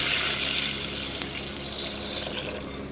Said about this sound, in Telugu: దీంట్లోకి ఎసరు అయితే పోసేసుకున్నాము.